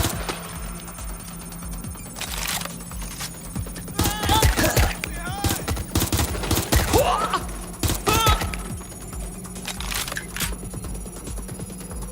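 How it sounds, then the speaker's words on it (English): Gunfire in Watch Dogs Legion comes in bursts of sharp, loud shots and ringing impacts over a steady electronic hum, with scattered metallic clinks between volleys. "They're shooting at us."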